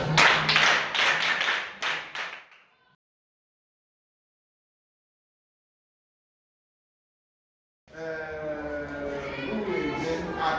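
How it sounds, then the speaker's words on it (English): A class claps together, a dense burst of hand clapping lasting about two and a half seconds and then cut off, followed by silence before a voice starts talking. "Clap for yourself."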